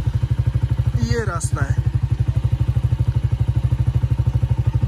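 A motorcycle ridden along a rough path toward home, its engine thumping in a fast, even pulse close by throughout while someone speaks briefly.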